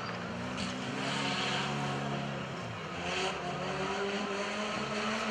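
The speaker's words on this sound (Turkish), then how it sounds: "Evet, birinci aracımız ikinci turuna geçti arkadaşlar." An off-road racing vehicle runs laps on a course at Ardeşen. A continuous engine drone sweeps up and down at moderate distance over open-air background noise.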